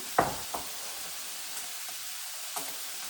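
Beef and tomato soup sizzles in a pan under a steady hiss, while a few sharp knocks of a spoon scraping and stirring punctuate it, alone without talk.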